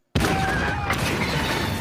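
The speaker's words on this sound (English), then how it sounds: "Yeah, it's a bomb. That's a bomb." A bomb goes off in the Andor series finale, a sudden loud blast out of silence followed by crashing, shattering debris that keeps roaring.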